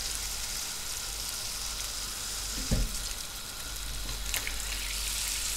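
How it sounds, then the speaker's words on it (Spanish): Broth and water are poured into a pot of browned vegetables for white asparagus cream soup, setting off a steady hissing sizzle. A brief splashy burst rises partway through, and the bubbling hiss stays constant throughout. "Vamos a añadir el caldo que hemos recuperado para que empiece a hervir porque ya se ha dorado toda la verdura."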